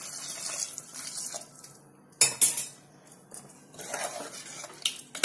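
Water is poured into a steel pot for a mutton dal, then a pressure cooker weight is set on with sharp metallic clinks and clatter, loudest around the middle, over quieter splashing and stirring.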